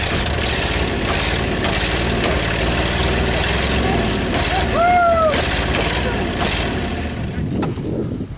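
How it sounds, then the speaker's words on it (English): A 1959 Ford Custom 300 engine runs on its carburetor after sitting outside for 46 years, a loud, steady, rough idle heard close up, with a brief squeal partway through and people talking at times. "we can get it running off the carburetor if we're giving enough gas"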